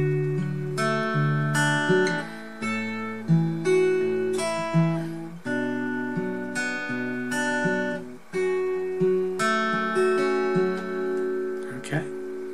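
Acoustic guitar playing a line of a song, a steady sequence of plucked notes and bass tones ringing close and clear, alone without talk.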